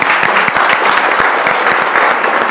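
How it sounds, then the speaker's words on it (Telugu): Studio audience applause on a Telugu TV comedy show, a dense, steady roar of many hands clapping together throughout, loud and close with no talk over it. "సూపర్ ప్రభాకర్ చాలా బాగా చేశా ఒక్కసారి అతని గడిగా క్లాప్స్ కొట్టాలి"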